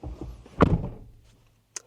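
Door of a 2026 Chery Tiggo 4 1.5T compact SUV shut from inside the cabin: a single solid, muffled thunk close by, a short rattle fading after it and a faint click at the end.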